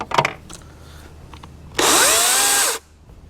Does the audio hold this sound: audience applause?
no